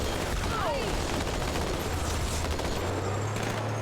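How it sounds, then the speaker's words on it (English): Covenant laser fire in Halo 2: Anniversary while driving, a dense stream of rapid crackling bursts running steadily throughout amid vehicle rumble and battle noise. "laser fire."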